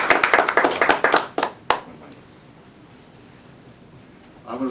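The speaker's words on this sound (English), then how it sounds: "A nice round of applause for Jorgen." A lecture audience claps for a volunteer called up on stage, a short burst of close, rhythmic hand claps that stops abruptly after about a second and a half, followed by quiet room noise and faint rustling.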